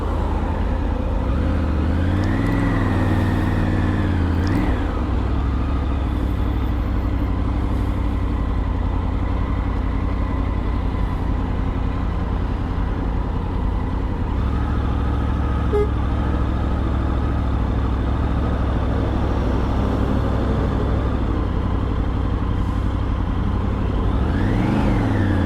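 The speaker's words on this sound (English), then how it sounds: "Traffic here is always a nightmare first thing in the mornings" Busy morning road traffic in Brighton, with a steady close rumble of car and truck engines idling and passing, occasional tonal swells as vehicles pull away, continuous throughout with no talk.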